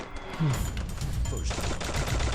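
Gunfire in the battle-royale shooter Free Fire: a burst of shots with a sharp crack near the start, then steady dense firing and game noise running loud throughout.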